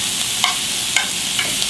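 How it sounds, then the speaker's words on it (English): Cabbage leaves cooking in a pan for stuffed cabbage rolls, with a constant hiss of sizzling and three or four light scrapes as they are stirred, steady and moderately close, with no talk. "These are cooking up very nicely. Maybe you just want to stir it a little bit."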